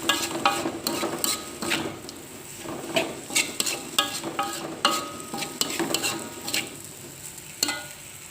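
Fried kwetiau noodles with chopped spring onion stirred in a pan, a spatula scraping and clanking against the metal in repeated close strokes over a soft steady sizzle, with no voices.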